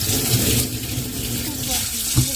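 Hands are washed under a running kitchen or bathroom tap, water splashing steadily with short changes as the hands move through the stream.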